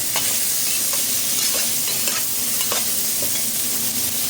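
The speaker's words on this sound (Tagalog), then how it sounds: "Haluin muna sandali natin ang gulay" A pan of vegetables and scallops sizzles steadily while a utensil stirs through it, with repeated scraping strokes close up and no talking.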